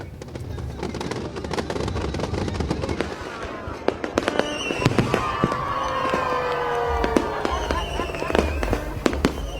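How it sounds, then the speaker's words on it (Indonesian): New Year's Eve 2025 fireworks at Bundaran HI, Jakarta, crackle and pop continuously, with sharp bangs and whistling trails over a loud crowd murmur. "Ada juga pesta kembang api yang menghibur masyarakat."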